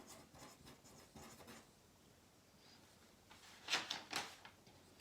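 Marker or chalk scratching on a board while writing out an inequality solution, several short rubbing strokes in bursts, faint and close, with a couple of sharper squeaky strokes near the end.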